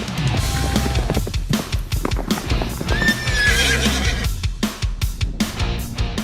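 Horses on Sumba clatter with a steady, busy clip-clop of hooves close by, and a loud neigh rises over the drumming hoofbeats midway through, all without speech.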